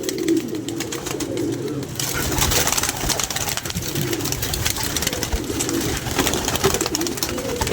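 Pigeons coo repeatedly in a soft, rolling rhythm against a busy background of flapping, rustling and faint engine noise, with a brief voice mixed in.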